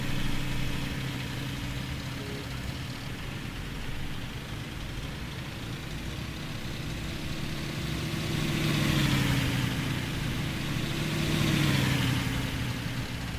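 A car engine runs steadily in the driving game Jalopy while the engine is starting to smoke, a constant low idle drone that swells slightly as it revs twice near the end, with no talk.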